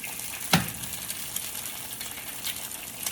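Eggs sizzle steadily in a hot pan with a continuous close crackle, marked early on by a sharp tap as one lands.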